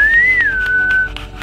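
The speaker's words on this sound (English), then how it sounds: "You gonna whistle towards them?" A person whistles a single sustained, gliding tone to call a pair of French Bulldog and Old English Bulldog mix dogs outdoors, the note rising slightly then settling lower before fading into faint background noise.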